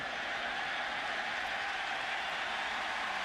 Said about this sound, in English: And the crowd approves